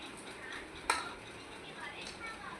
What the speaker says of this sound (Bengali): আমার ওয়াইফ রান্না করছে, দেখেন ডাউল ডাউল রান্না করছে